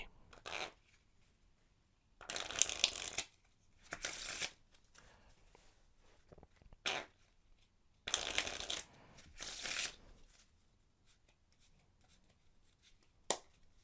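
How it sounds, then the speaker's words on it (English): Playing cards riffled and shuffled in several quick bursts, close up, with pauses between each shuffle and no talking. "let's give it a few shuffles before we do a trick"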